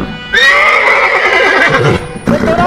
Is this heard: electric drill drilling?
no